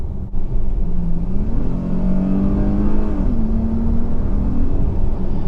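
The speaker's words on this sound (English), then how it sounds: "I was surprised upon initial acceleration about how perky she feels, peppy even." A 2020 Dodge Challenger GT 50th Anniversary accelerating, its engine note rising in pitch and holding a steady, loud rumble throughout with no voices.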